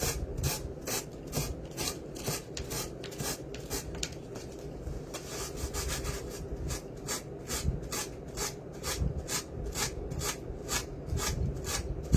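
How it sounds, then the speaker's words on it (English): Sanding a decoupaged fall pumpkin by hand, a quick, regular back-and-forth rasping of paper over the surface, repeated rhythmically and close up. "I'm going to start sanding this off."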